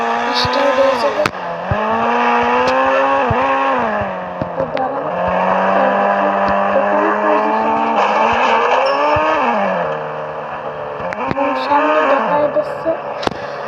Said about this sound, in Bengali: তো রেসিং কারও আসতেছে হালকা হালকা শব্দ শোনা যাচ্ছে